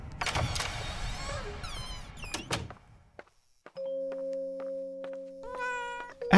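A cat meows inside the horror game Layers of Fear: Inheritance, several short harmonic cries near the start, followed by quieter game sounds and a sustained humming tone.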